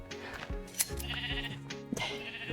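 A Minecraft sheep bleats in a wooded area, one drawn-out wavering bleat over a faint game soundscape, moderately quiet.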